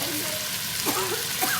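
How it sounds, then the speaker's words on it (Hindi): Onions frying in a karahi, a steady close sizzle with a faint hiss throughout and a few brief spoon scrapes or stirring sounds near the end. "थोड़ी सी प्याज डालेंगे"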